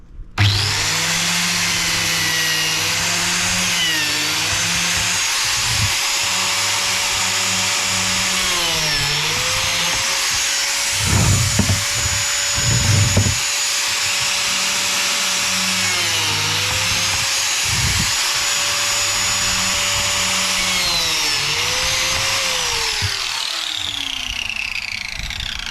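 Biscuit jointer power tool cutting slots in wood outdoors in a garden, a steady loud motor whine running throughout with several heavier bursts as the blade bites into the board.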